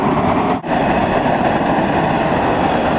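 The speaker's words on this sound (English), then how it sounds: "Stupid train!" A train passes close by, its loud, continuous rumble and rattle of rail cars holding steady throughout, with one brief dip near the start.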